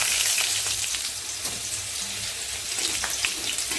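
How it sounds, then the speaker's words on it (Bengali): Three dried red chillies fry in a generous pour of mustard oil, giving a loud, dense, crackling sizzle with scattered pops throughout. "বোটা সময় 3টে শুকনো লঙ্কা দিয়ে দিচ্ছি।"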